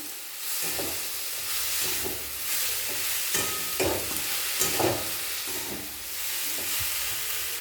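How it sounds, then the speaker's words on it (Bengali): Chopped cabbage is stirred with spices in a hot pan for a cabbage and masoor dal dish. A loud, steady sizzle carries repeated scraping spatula strokes that come and go, with no voices. "এরপর মশলার সঙ্গে বাঁধাকপি ভালো করে নাড়াচাড়া করে নেব।"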